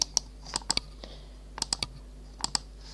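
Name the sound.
computer mouse clicking on Facebook bookmarks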